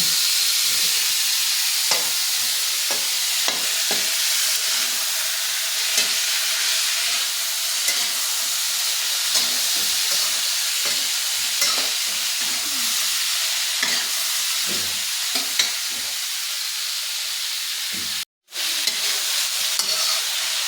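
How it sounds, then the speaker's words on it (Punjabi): Cauliflower stalk sabzi with potatoes sizzling steadily in a pan while being stirred, a loud constant hiss with soft scraping strokes, briefly cut near the end. "ਆਪਾਂ ਇਸ ਨੂੰ ਇਸ ਤਰੀਕੇ ਨਾਲ ਹਿਲਾ ਲੈਂਦੇ ਹਾਂ"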